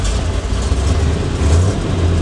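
A 1971 Corvette convertible with a 350 V8 running close by, a loud steady low engine rumble with a slight swell in revs toward the end, no voices.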